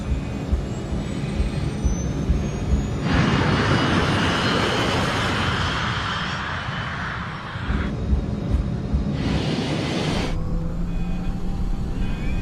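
Airliner jet engines spooling up to full throttle for a takeoff roll down a 2400-metre runway, a loud broadband roar that swells and holds steady with a brief lull in the middle, then surges again.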